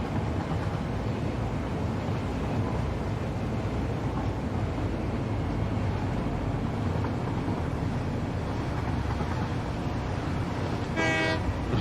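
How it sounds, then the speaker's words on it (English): A loud rumbling video-game train rolling along continuously, with a sharp horn blast near the end. "I was gonna say, I thought there was a horn on this thing. It's kind of loud."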